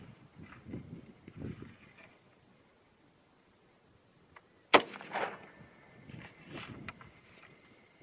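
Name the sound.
rifle shot from a 300 HAM'R with muzzle device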